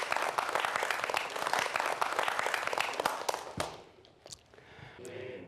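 An audience at a televised lecture on volcanoes and earthquakes breaks into dense, loud applause that holds steady and then thins out into a few scattered final claps before quiet.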